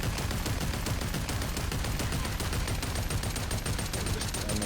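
Dense, continuous gunfire from the VR shooter Population One, with rapid shots packed closely together in a loud, unbroken barrage of cracks and no pauses.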